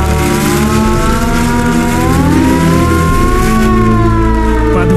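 A wailing air raid siren from wartime Tula sounds loud and continuous, its rising and falling tone sweeping slowly over layered harmonics, with no voices over it.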